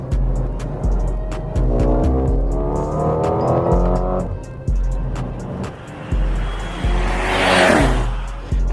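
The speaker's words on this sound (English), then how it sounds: "In the inside, this M139 engine sounds absolutely mad." A Mercedes GLS 35 with the M139 engine revs hard inside the cabin through repeated gear changes, each loud, rising pull cut off by a brief drop, with a whoosh near the end.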